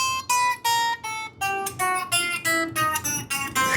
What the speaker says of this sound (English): I know oftentimes people will suggest these more spider exercises, so they sound like this.